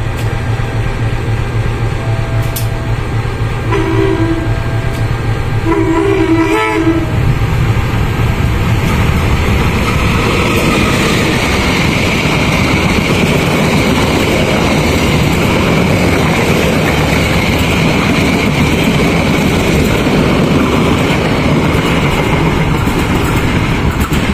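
A train passes through Randuagung station in Indonesia, a loud continuous rumble and roar of wheels on rail, with brief horn-like tones early on before the steady passing noise fills the rest.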